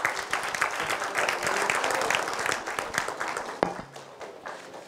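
An audience at an Engineers Day event applauds, dense sustained clapping from a full room that continues for several seconds before thinning out, with faint voices beneath.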